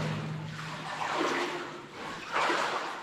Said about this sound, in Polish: Wody jest po kolanach prawie.